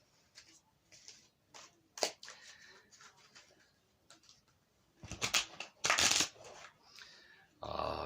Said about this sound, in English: We'll shuffle 2 more times